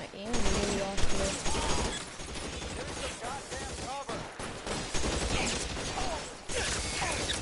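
Gunfire rattles through a shootout in the video game LA Noire, with dense, loud bursts of shots and crashing impacts. Voices sound faintly under the shooting.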